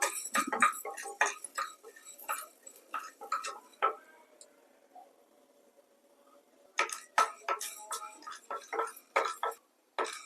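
Black peppercorns dry-roasting in a frying pan over half heat, rapid crisp ticks and pops scattered irregularly, pausing briefly to a quiet sizzle before bursting again in dense clusters.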